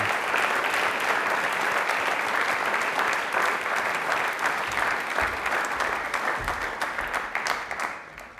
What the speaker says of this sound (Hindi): एक बार तालियां अंशुल के लिए जोरदार वाली उनसे।